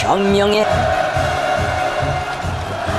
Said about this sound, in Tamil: அதிபர் கிம் ஜோங் உன் சிவப்பு கம்பளத்தில் நடந்து வந்த போது பொதுமக்கள் ஆரவாரம்